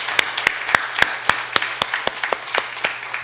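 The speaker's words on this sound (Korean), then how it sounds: "하나님께 다시 한번 영광의 박수 올려드립니다" Church congregation applauding during a Sunday morning service, with a slow, fairly sparse clap rhythm and distinct individual claps over a faint background hum.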